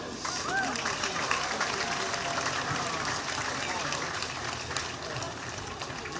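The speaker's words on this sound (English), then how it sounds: "a big round of applause for them" After a Galway senior hurling championship final, spectators applaud with a steady, dense patter of clapping that holds evenly throughout, heard from a fair distance.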